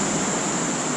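Ocean surf washes onto a sandy beach shore during beach fishing, a loud continuous rush of breaking water with wind noise and no talk.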